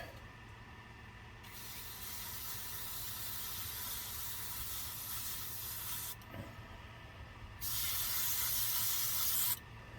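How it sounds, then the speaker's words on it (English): Long bursts of aerosol spray paint hiss close up on a plastic scale model car bulkhead (AMT '33 Willys kit), with a short pause before a final blast, over a steady low hum. "We're gonna spray it."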